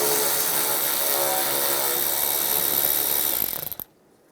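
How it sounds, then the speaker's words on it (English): A power tool with a 7mm socket spins out a bolt during headlight wiring harness replacement on a 2007-2013 Chevrolet Silverado, a loud, steady close whir that sputters and stops near the end. "I'm going to pull this bolt out as well."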